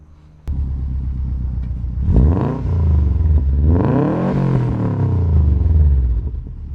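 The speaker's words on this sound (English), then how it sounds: "I love these flat fours, man. They have such a cool rumble." A Subaru Impreza WRX (Evo V) flat-four engine idles with a low rumble, then revs up twice in strong swelling pulls before settling back, loud and close.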